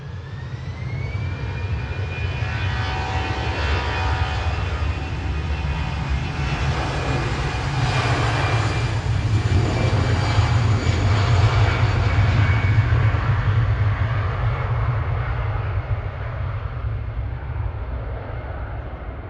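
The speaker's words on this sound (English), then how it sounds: "Finnair 1366 heading back to Helsinki now. OH LVI and A319" Finnair Airbus A319 jet departing Manchester Airport for Helsinki, its engines roaring loud and steady for the whole stretch with a rising whine, heard alone without voices.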